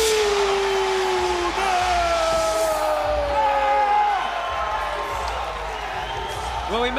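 A partisan crowd at a Karate Combat event keeps up a steady roar with occasional whoops. It stays in the background under continuous commentary.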